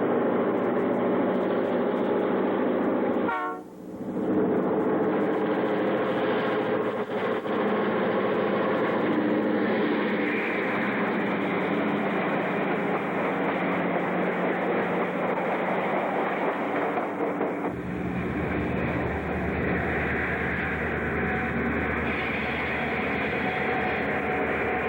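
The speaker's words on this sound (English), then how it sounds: "southbound passenger train number 322, the Northlander, with engine 1984, goes by on its way south to North Bay and Toronto" Ontario Northland's southbound Northlander passenger train, led by engine 1984, rolls past in winter with a loud, sustained rumble of diesel and wheels that holds steady for about twenty-five seconds and briefly dips early on.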